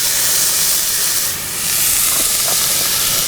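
Pepper and onions sauté in a camp pan for a German bratwurst meal, giving a loud, continuous, close sizzling hiss with a brief dip in the middle.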